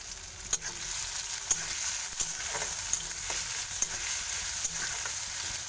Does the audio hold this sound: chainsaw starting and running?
no